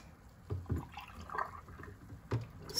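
Milk is poured by the cup into a pot for a sweet milk fudge, making faint, soft splashing and gurgling with a few brief louder splashes.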